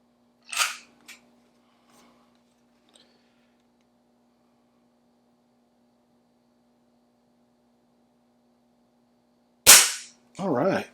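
Two sharp, loud spring-piston shots from a Beeman 1020 air pistol, one near the start and one near the end, each a crisp snap. Long quiet stretches with low hum lie between them, and brief faint talk follows the last shot.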